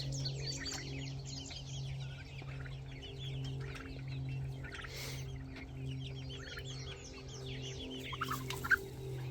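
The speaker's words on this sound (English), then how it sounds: "Look at those chickens." Chickens cluck and chirp steadily on a farm pasture, with several birds close by, over a constant low hum and a few sharper calls near the end.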